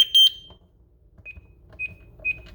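A Simon XT alarm panel being disarmed with a duress code: a cluster of three sharp electronic beeps up front, then three shorter single beeps spaced out as keys are pressed, with quiet handling sounds between.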